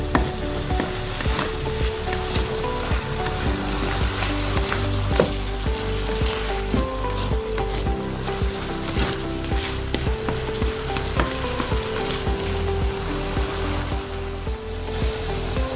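Steady loud sizzling from chicken and green beans stir-fried in a pan, with repeated scraping and clacking of the spatula as the ingredients are tossed and mixed.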